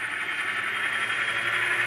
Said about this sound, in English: You can finally hear the prime mover go a little faster